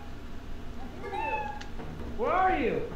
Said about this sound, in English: There's a whole cat!